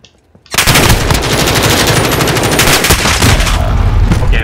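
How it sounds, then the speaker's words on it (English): Sustained automatic gunfire from a weapon in the shooter game Modern Warfare, a loud rapid stream of shots starting abruptly after a brief quiet moment and continuing nearly unbroken to the end. "this gun's fun"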